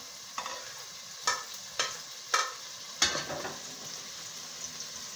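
A spoon scrapes and stirs frying garlic ginger paste and tomatoes in a pan, making several separate scraping strokes over a faint, low sizzle. The kitchen is quiet and nobody talks.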